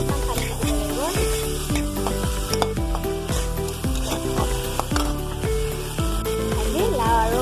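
Lauki and fish curry sizzles and bubbles in a pan as a little water is added, a steady close frying hiss running throughout while rhythmic music plays over it.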